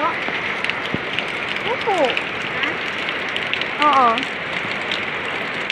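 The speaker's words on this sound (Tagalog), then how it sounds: "Ang lakas ng ulan" Heavy rain pours steadily outside a house, a dense constant hiss on surfaces, while people exchange a few short words over it.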